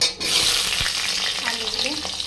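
Dried red chillies crackle and fry in hot oil in a pan, producing a loud, dense sizzle with occasional stirring scrapes and no speech.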